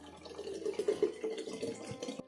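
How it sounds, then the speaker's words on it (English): Water pours from close by into a bottle holding blueberries for homemade soda, a quiet trickling and gurgling stream with soft drips. "Add some water."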